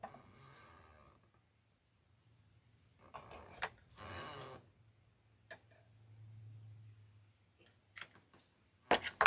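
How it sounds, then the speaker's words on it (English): Scissors snip and click while someone works on a sunflower cat wreath craft. The quiet, sparse clicks come in small clusters over a low background hum. "Let's take my scissors."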